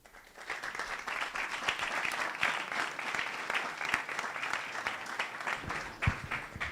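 An audience applauds after a conference talk on data consistency, a steady patter of many hands clapping at moderate volume for several seconds with a few sharper individual claps standing out.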